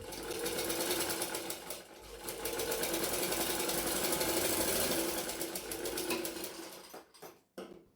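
A sewing machine stitches a quarter-inch seam on the front part of a blouse, running in a fast continuous whir before it slows and stops into a few short bursts near the end.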